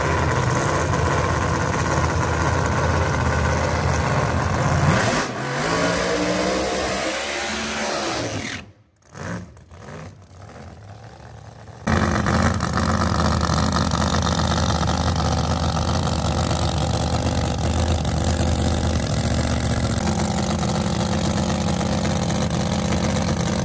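A Pro Mod drag race car engine on its first pass of the night at London: a loud, steady, close roar that cuts out sharply for a few seconds mid-clip, then resumes at full strength until the end.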